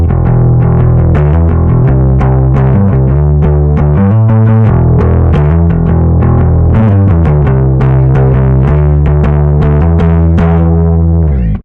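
A bass guitar runs through an Aguilar Tone Hammer distortion pedal with the gain set about two-thirds up. It plays a steady, loud, gritty line with sustained notes and punchy attacks, and no voices are heard.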